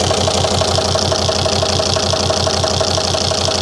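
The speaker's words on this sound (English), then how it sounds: "disconnecting injector 4 makes no difference at all to that idle problem" 2003 Volvo XC90 D5 diesel idling roughly with a misfire while injector 4 is disconnected: a steady, close, loud chugging with an even pulsing knock throughout.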